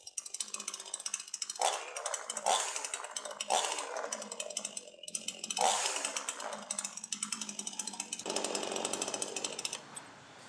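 A Sharp Garuda chainsaw engine revs repeatedly with the chain brake released, its buzzing whine surging and dropping in bursts as the throttle is opened and released, close and loud.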